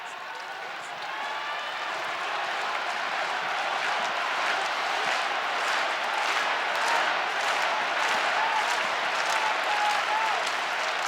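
A large wrestling crowd at the Tokyo Dome cheers and applauds in a dense, continuous roar that swells after a quiet first second and holds loud to the end, with faint whistles and shouts mixed in.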